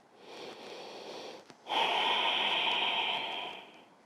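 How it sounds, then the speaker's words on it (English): Slow, deep breathing in and out through the nose during a seated shoulder yoga flow, one soft inhale followed by a longer, louder airy exhale, close to the microphone with no talking. "And breathing in and out through the nose."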